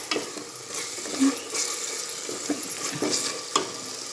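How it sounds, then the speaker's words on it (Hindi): Masala sizzles steadily in hot oil in a pan, roasted before mutton is added for a deg-style gosht curry, with a constant close hiss broken by occasional light stirring scrapes and clinks. "इसको थोड़ा देर भूनूंगी और फिर इसमें गोश्त डालकर भी भूनूंगी"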